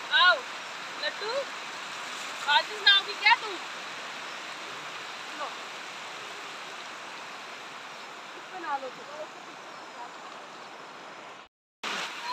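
Steady rushing of a river's flowing water in a village in Almora, Uttarakhand, a continuous broadband wash throughout, with a few brief voices and splashes of people bathing near the start and middle.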